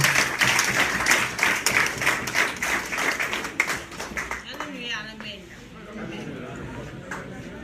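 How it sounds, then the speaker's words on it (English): Audience applause at a political coalition press conference, loud and dense clapping for about four seconds that fades out, followed by someone speaking over the last of it. "round of applause."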